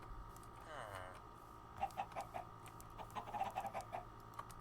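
Chickens clucking in the Minecraft video game, a few soft short clucks in quick bursts over a quiet low hum, faint and close together.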